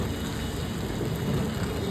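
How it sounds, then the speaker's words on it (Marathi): Steady rain in Pune hisses continuously with a low rumble underneath, a dense, even wash of sound with no voices. "सध्या तर थोडाच पाऊस झालेला आहे"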